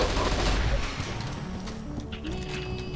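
Rapid gunfire in the online shooter CF West, loud bursts of shots at close range with crackling impacts continuing throughout.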